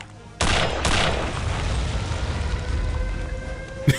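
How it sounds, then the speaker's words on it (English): Explosions in Return to Castle Wolfenstein burst in suddenly and loudly, two sharp blasts in quick succession followed by a long rumbling roar of continued detonations and debris. "Everything's exploding."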